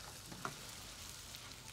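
Chicken sizzles faintly in a hot pan as it is stirred in a cooking demonstration, giving a steady, soft frying hiss over a brief moment with no voices.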